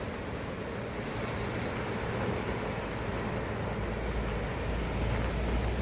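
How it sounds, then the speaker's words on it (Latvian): Ocean surf at Baleal on the Portuguese coast, a steady broad wash of waves with wind rumble, fairly faint and continuous with no voices. "Plašais okeāns."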